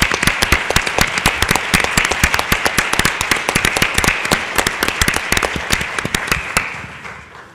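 A conference audience claps loudly in a journalism ethics hall, sharp individual claps standing out in a brisk, uneven patter that thins and fades out near the end.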